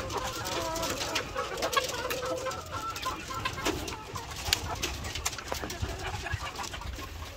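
Chickens cluck and murmur continuously at a moderate distance, with scattered soft coos and calls and faint talk in the background.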